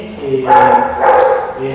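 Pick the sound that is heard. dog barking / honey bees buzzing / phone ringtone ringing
dog barking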